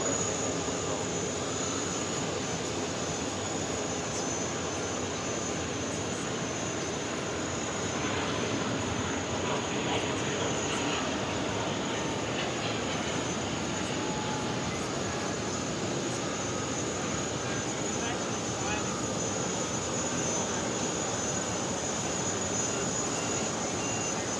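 Steady jet aircraft engine roar at New York's JFK airport, a broad continuous rumble with a high whine on top, holding even and moderately distant for the whole stretch.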